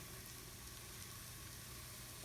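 Vegetables and mushrooms for a vegetable and chorizo frittata sizzling in a pan, a steady, quiet, unbroken frying hiss from start to finish with no talking.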